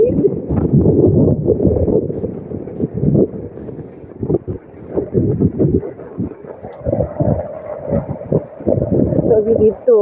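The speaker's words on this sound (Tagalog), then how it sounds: "Lakas ng hangin." Strong gusting wind buffets the microphone outdoors on a road in the rain, with heavy low rumbling bursts rising and falling throughout as someone talks over it.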